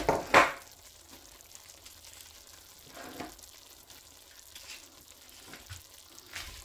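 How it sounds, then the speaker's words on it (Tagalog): Carrots and chayote fry quietly in a pan with chicken, a soft low sizzle broken by a couple of sharp utensil clanks at the start and occasional faint stirring scrapes. "Pwede na natin ilagay ang carrots at saka yung sayote."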